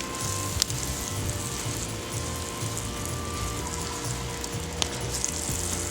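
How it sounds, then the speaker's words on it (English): Butter melts and sizzles in a pan as a bourbon peach foster sauce cooks down. The crackle is soft, steady and fine-grained, with a few small pops and no voices. "now that our butter is pretty much all melted and this is starting to cook down"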